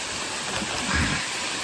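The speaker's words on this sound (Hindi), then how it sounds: "सामने ये नीचे भी गुफा होगी जिसमें से पानी नीचे चला जा रहा है, और वाटरफॉल सा भी है" A small waterfall spilling down into a cave in monsoon Meghalaya, heard as a steady loud rushing wash with a brief surge in the middle and no clear talk.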